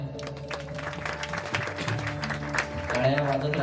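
Scattered audience clapping at a devotional tribute gathering honouring a mridang master, rising toward the end over steady tonal music with a held drone.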